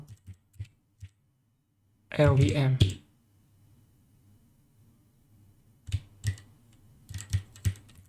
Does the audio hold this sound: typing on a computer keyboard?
yes